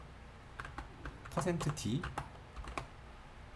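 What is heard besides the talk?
typing code on a computer keyboard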